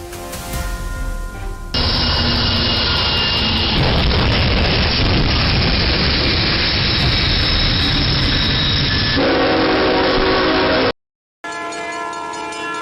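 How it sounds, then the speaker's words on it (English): A high-speed passenger train rushes in and smashes a truck trapped on the tracks: a loud, sustained roar of rail noise and crashing that fills about nine seconds, then cuts to brief silence before other sound resumes. "a high-speed passenger train came rushing in and smashed the truck to pieces"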